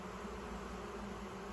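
Honey bees buzzing at a newly established homestead hive, a soft, steady, distant drone of many insects with no breaks.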